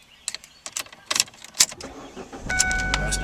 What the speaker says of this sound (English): Most importantly, the car cranks up.